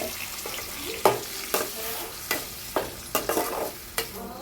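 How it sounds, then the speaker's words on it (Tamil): Ground masala paste frying in hot oil for a dried-fish curry, with a steady sizzle and about seven sharp scrapes of a spoon stirring it around the pan. "இப்போ நம்ம அரைச்சி வச்சுருக்க பேஸ்ட்டை இதில் போட்டுட்டோம்."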